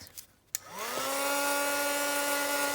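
A hair dryer switches on after a couple of soft knocks and quickly rises to a loud, steady whirring hum, drying a painted art journal page close by, with no voices.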